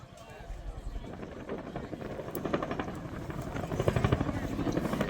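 An RAF Chinook HC.6 twin-rotor helicopter performs a flying display at an air show, its rotors beating in a steady, heavy thudding that swells louder as it draws closer, with wind buffeting the microphone.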